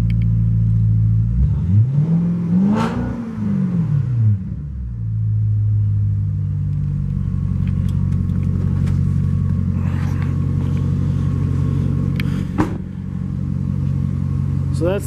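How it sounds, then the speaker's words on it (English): A 2006 Cadillac XLR convertible with an upgraded exhaust idles with a deep rumble, then the engine is blipped in a sharp rev that rises and falls before settling back into a loud, steady idle close by. "Also has a nice upgraded exhaust, which sounds really good on this car."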